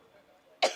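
A single short, light cough from a nearby person breaks out after a brief stretch of quiet room tone.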